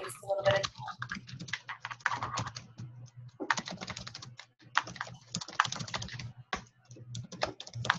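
Quick, dense clatter of keys on a computer keyboard, fast typing in uneven flurries with brief pauses, while people talk over it.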